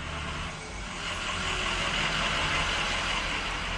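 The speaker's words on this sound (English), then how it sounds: "There's a truck going by." A truck passing outdoors, a broad steady engine rumble that swells slightly and holds, fairly close, with no talk over it.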